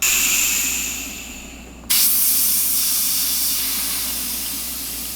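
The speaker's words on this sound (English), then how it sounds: "the HPCS Iwata is so good" An Iwata HP-CS airbrush with its nozzle removed sprays black paint at high pressure in a loud, airy hiss that fades slightly, cuts off briefly, then bursts back on strongly and continues.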